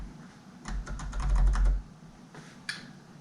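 A short burst of quick keystrokes on a USB keyboard connected to an old Compaq Armada 1750 laptop, close and clicky, then a brief pause and a few more separate key taps.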